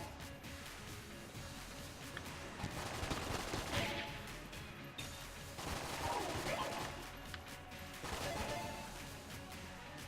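Rapid bursts of Mac 10 gunfire in the video game Enter the Gungeon, dense rattling volleys with impact crashes, fairly faint and continuous over several seconds, with no clear talking.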